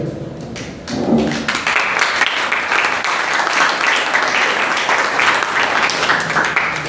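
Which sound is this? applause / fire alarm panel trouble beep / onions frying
applause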